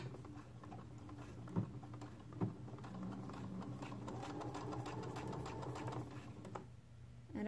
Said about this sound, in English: I'm going to sew them together with a quarter inch seam allowance. And I just use a straight stitch here.